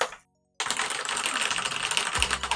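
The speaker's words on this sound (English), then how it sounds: "Mechanical keys!" Rapid, continuous clacking comes from typing on the mechanical keys of an X68000 Z keyboard, close and loud, starting after a brief silence and running as a busy stream of key strikes.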